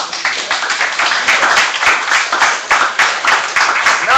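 A crowd at a political speech bursts into loud, close clapping that surges in rhythmic waves, with no speech over it.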